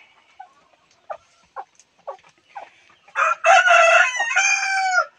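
A native Palawan chicken rooster crows loudly and close by, a long drawn-out call, preceded by several short clucks and scattered chicken noises.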